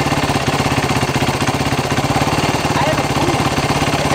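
A Yamaha YFZ450R ATV engine idles with a suspected spark plug fault, producing a loud, close, rapid steady pulsing throb that runs unbroken throughout.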